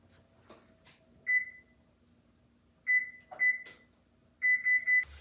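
An electronic oven control panel beeping while being set to preheat, short bright single beeps spaced irregularly, then three quick beeps in a row, close and clear against a quiet kitchen.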